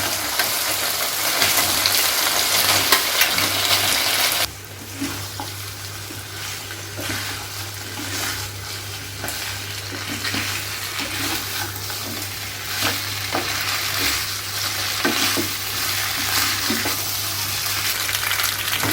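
Vegetables for a Bengali shukto with milk and coconut go into a spice paste frying in a pan and are stirred, giving a steady close sizzle with scraping stirs throughout, a louder burst at first that settles lower.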